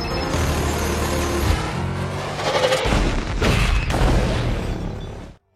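A car blows up in an action film after an attack from above, heavy booming blasts and rumbling crashes that swell and break in loud waves before cutting off abruptly.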